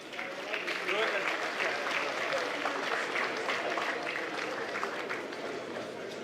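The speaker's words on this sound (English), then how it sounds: "give a robust round of applause to the Secretary General of the AFCFTA Secretariat" Sustained applause from a large audience at the Afreximbank 2025 Annual Meetings, honouring the AfCFTA Secretary General; dense, steady clapping with crowd noise holds for the full stretch, loud and even throughout.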